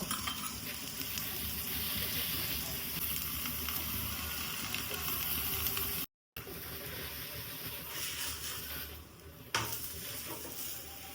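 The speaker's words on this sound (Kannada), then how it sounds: "ತಾಲಿಪಿಟ್ಟನ ಹಂಚಿಗೆ ಹಾಕತ್ತೀನಿ ಇದಕ್ಕೆ ಮೇಲೆ ಎಣ್ಣೆ ಹಾಕೋಬೇಕ" Vegetable talipattu dough sizzles in oil on a hot griddle pan, a steady dense frying hiss running nearly throughout with a brief cut midway and a light clink near the end.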